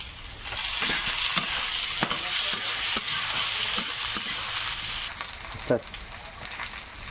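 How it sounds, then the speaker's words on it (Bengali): Cardamom, cloves, cinnamon and tomato fry in hot oil, sizzling constantly while a spoon stirs and scrapes the pan in repeated strokes, close and loud. "এটা একটু তেলে ভাজাভাজি হচ্ছে"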